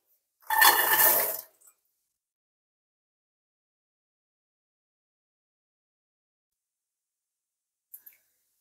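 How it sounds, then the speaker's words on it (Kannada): A pan set down on a stovetop gives one short metallic clatter near the start, then near silence with a faint double clink at the end. "ಇಲ್ಲಿ ಇನ್ನೊಂದು ಪ್ಯಾನ್ ಇಟ್ಟಿದ್ದೀನಿ."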